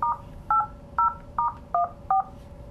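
Six crisp keypad tones in a steady rhythm from a Polycom QDX 6000 video conferencing system as a system name is entered, loud and close with nothing else heard.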